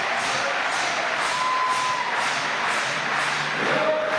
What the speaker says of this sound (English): Crowd are behind her this time.